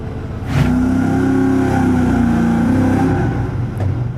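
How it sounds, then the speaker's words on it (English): An engine idles loudly up close with a slight misfire, its rumble slightly uneven with a faint irregular stumble in the rhythm, no voices present. "it sounds like it has a little bit of a misfire"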